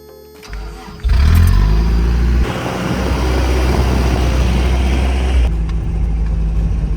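An old Toyota truck engine cranks and fires, then settles into a loud, steady running rumble close by before the revs drop.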